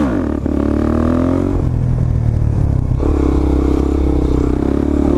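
Supermoto motorcycle ridden hard down a residential street, its engine revving loud and close throughout with a steady throaty drone, a brief throttle dip near the start and another surge around midway, with some clatter.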